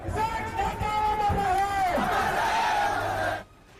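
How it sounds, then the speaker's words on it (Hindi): Hundreds of people gathered on a highway chant slogans in a loud, dense roar of voices, rising and falling together before cutting off abruptly near the end. "सैकड़ों की भीड़ हाईवे पर इकट्ठा हो गई और जमकर नारेबाजी करने लगी"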